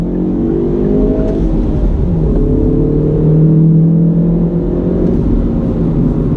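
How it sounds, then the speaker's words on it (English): A 2019 Hyundai Veloster Turbo R Spec accelerates in first gear from inside the cabin, its engine note rising steadily with a strong low hum and smooth climbing whine, loud and continuous throughout. "As we roll out, go ahead, first gear."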